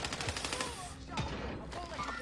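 Rapid gunfire from an online multiplayer shooter game, a fast run of shots at the start followed by a few scattered louder blasts, with players' voices faintly mixed in.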